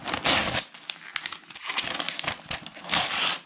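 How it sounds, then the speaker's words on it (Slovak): Paper and glass crackle and crunch as junk, including an old Xbox game case, is crushed and broken apart, in loud close bursts of crinkling with short pauses and no talk. "Počuj ten zvuk. Zbožujem takýto zvuk. Praskanie skla, takéto papiere"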